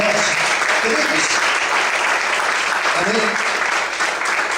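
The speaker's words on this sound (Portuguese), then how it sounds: "vamos aplaudir o Senhor com alegria e forte" A church congregation claps loudly and joyfully in praise, a dense continuous wash of hands from many people filling the room, with voices mixed faintly underneath.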